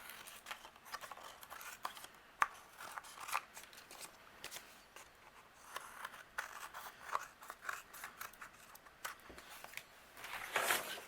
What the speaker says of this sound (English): I'm going to use my scissors and I'm going to trim away what's overhanging